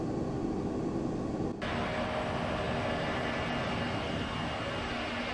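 Boeing 767 jet engines idling in Microsoft Flight Simulator X while parked on a taxi line at a Moscow airport in bad weather, a steady loud roar and whine that holds unbroken apart from a brief dip.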